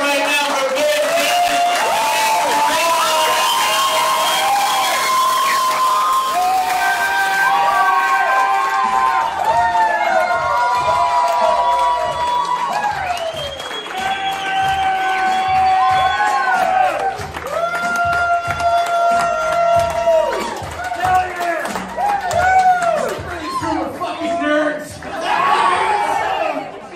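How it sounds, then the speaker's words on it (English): A live stage show crowd in New York cheers and applauds as the host comes on, a loud continuous roar of voices with clapping under music-like tones, holding steady for the whole stretch with talk and whoops mixed in. "Guys, start clapping right now for Bateman!"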